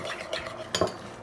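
Spoon stirring a yogurt sauce with lemon in a bowl, giving a few soft scraping strokes and two sharper clinks of utensil against the dish, close and fairly quiet, no talk.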